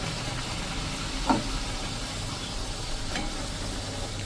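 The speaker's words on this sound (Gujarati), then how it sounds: "તો આ રીતે જો આપણે બધી પૂરી તળી લેશું" A batch of puris frying in hot oil gives a continuous close sizzle with a faint low hum underneath and a couple of brief crackling bursts.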